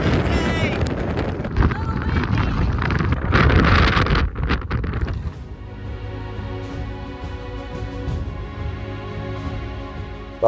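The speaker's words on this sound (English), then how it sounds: "It's super windy, super rainy, very foggy, low visibility." Strong wind buffets the microphone on the foggy, rainy Iceland coast at Dyrholaey, loud and roaring for the first five seconds before easing into a steadier, quieter gusting rumble.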